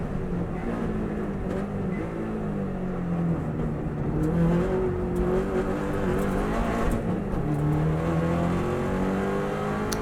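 A Subaru WRX STI on the Isle of Man TT course slowing down through Ramsey, its engine droning steadily at low revs after dropping to second gear, with a gradual rise in pitch, heard from inside the car.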